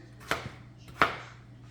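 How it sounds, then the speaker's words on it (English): Knife chopping through russet potatoes on a cutting board, two crisp cuts about 0.7 seconds apart, close and fairly loud, with a faint steady hum underneath. "So I'm just going to cut up the potatoes."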